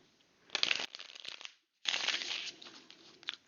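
Tarot cards being shuffled by hand in two bursts of riffling and sliding, with a short pause between, close and fairly quiet, no talking.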